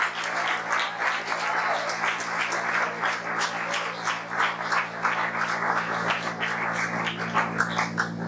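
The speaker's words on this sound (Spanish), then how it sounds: "¿Cuánto le damos aplauso al Señor?" A church congregation applauding during a sermon, a dense, sustained wash of many hands clapping that holds steady and loud throughout.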